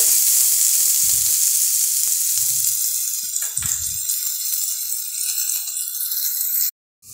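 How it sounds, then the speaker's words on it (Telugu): Beetroot fries in a pan with a bright, steady hiss up close, a few low bubbling pops mixed in, before the sound cuts off abruptly near the end. "ఇలా ఒక 2 minutes దీన్ని ఫ్రై చేసుకోవాలి"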